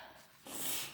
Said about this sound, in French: et je me renifle, que je n'aime pas faire ça